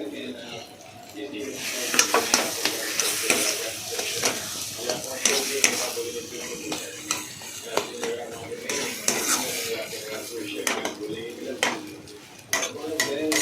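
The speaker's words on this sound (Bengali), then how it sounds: "চিনি দিয়ে তারপর ভালো করে নাড়াচাড়া করলাম" Thick taro paste with sugar is stirred in a pan, repeated scraping and clacking of a spoon against metal over a soft sizzle, uneven bursts close by with some background voice.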